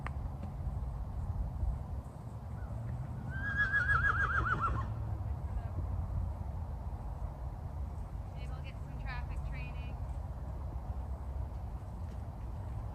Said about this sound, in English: And then here comes Megan riding Fable.